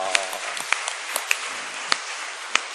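A church congregation at a Sunday worship service gives a light, scattered round of applause, thin clapping with a few sharper individual claps standing out at irregular intervals, fairly quiet and close.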